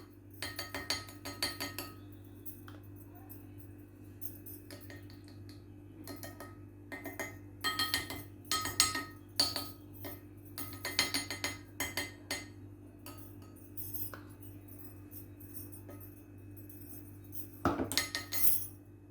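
Ghee being spooned into the holes of a metal paniyaram pan, heard as light irregular clinks and taps of a utensil against the pan in clustered bursts with brief quiet gaps.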